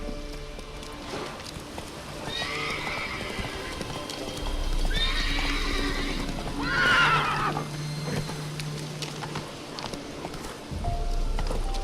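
A horse in a video game neighs and whinnies several times over steady galloping hoofbeats, close and fairly loud, with a faint voice briefly heard.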